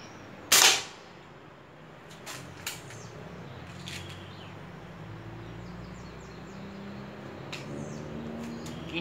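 A single sharp snap of a PR900 air rifle shot rings out near the start, followed by quiet outdoor ambience with faint birds.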